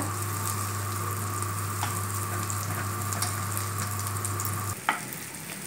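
Slices of raw banana (plantain) fry in a pan, giving a steady, close sizzle that runs the whole time under a low constant hum, with a brief clatter near the end.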